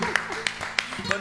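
A handful of sharp, evenly spaced hand claps at a Peruvian criolla song cultural Saturday event, applause offered for Teresita, ringing out close by beneath ongoing voices.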